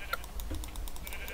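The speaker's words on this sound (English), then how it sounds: "there are so many sheep!" Sheep bleat in the Minecraft video game, with a few short, repeated bleats over a faint clicking of keys, at a low level and without talk.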